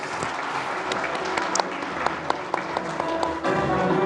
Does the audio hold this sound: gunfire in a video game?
no